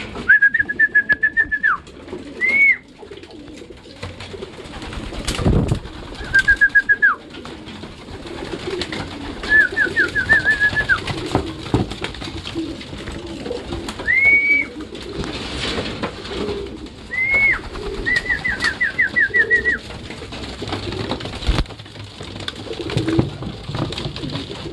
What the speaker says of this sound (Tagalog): papakain na tayo ng mga ibon natin